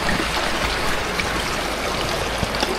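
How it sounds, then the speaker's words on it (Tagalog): Stream water flows steadily outdoors on a hillside trail, a continuous near rushing and trickling wash with no voices. "Tubig, agos ng tubig."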